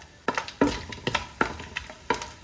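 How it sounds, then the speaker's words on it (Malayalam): Coconut pieces fry in coconut oil for a Kerala-style beef dish, with a low sizzle broken by five sharp, close spatula scrapes and stirs at an uneven pace. "നമുക്ക് ആദ്യം തന്നെ ഈ തേങ്ങാക്കൊത്തൊന്ന് വറുത്തെടുക്കാം"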